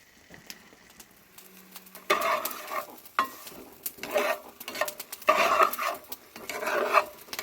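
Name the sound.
stirring chorizo in a camping pot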